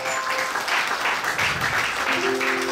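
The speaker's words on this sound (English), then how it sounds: "Clap for Jesus." Church congregation clapping together at a Friday service, a steady dense wash of many hands filling the room, with a sustained organ or keyboard tone underneath throughout.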